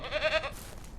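A sheep in the Ranch Simulator video game gives one short, close bleat lasting about half a second, followed by a quiet background.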